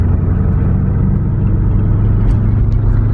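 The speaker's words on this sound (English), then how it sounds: "Drive around this block about 100 times, break this engine in right." A Ford Mustang with a freshly rebuilt engine drives slowly, its low idle-range rumble steady and close with a dense, even drone and no speech.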